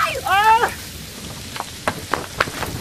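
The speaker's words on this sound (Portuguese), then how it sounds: "A chuva de novo!" Cartoon rain falls in a children's animation, a steady soft hiss with scattered sharp drop taps, following a brief high chirping sound at the start, with no speech over it.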